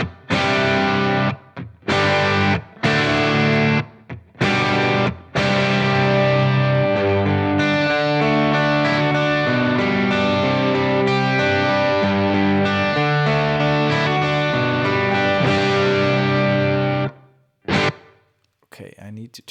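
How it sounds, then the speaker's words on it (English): Distorted electric guitar split across two amps, bridge pickup through one and neck pickup through the other, panned hard left and right, playing choppy stabs that give way to sustained chords before a sharp cutoff. "And now we have one bridge pickup going through one amp, neck pickup going through another amp, left and right panned."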